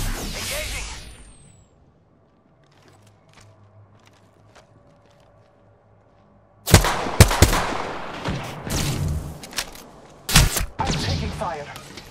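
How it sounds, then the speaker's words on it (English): Close, loud bursts of automatic gunfire in the battle royale shooter Apex Legends break out after a quiet stretch, with repeated volleys and sharp single shots over background game noise. "I'm taking fire."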